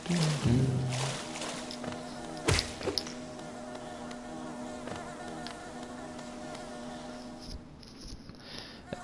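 Swarming bees in the Hollow Knight video game make a steady, close insect buzz and drone throughout, with a few sharp thuds and hits of game action mixed in.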